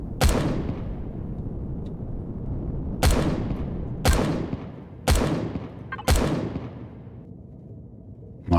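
Five booming long-range gunshots fired in the video game Empyrion (Reforged Eden 2 scenario): one lone shot, then four evenly spaced about a second apart, each a sharp crack trailing into a long rumbling echo over steady background hum.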